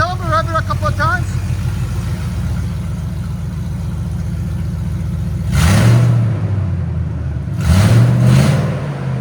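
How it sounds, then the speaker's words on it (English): A 2000 Ford Lightning's supercharged 5.4L V8 with open headers and a Borla ATAK exhaust idles with a low burble, then is revved twice in sharp, loud bursts that rise and fall back, with brief speech at the start. "tell them to rev it a couple of times"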